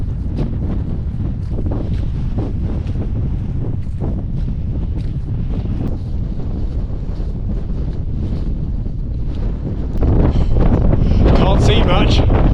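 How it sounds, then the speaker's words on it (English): Strong gusty wind buffets the microphone on Hay Bluff, a steady loud roar that swells harder toward the end, with no talk. "The wind is blowing."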